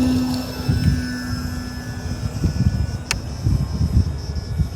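Engine of an RC plane with flaps down taking off on a windy day at a coal port, a steady high whine running throughout with wind rumble and buffeting underneath.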